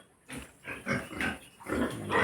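A pig grunts in its newly built pen, a run of short, rough, close grunts and snorts coming in uneven bursts with no talking.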